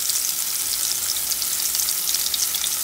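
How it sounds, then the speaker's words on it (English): Shrimp frying in hot oil in a pan, a continuous bright crackling sizzle with dense popping, close and steady throughout. "We are frying right now."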